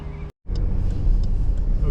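Steady, loud low rumble of road traffic heard from outdoors with a wind suppressor on the microphone, broad engine and tire noise that continues with only a brief dropout near the start.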